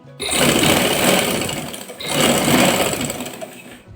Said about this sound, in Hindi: मैं इसी के ऊपर सिलाई लेकर जाऊंगी।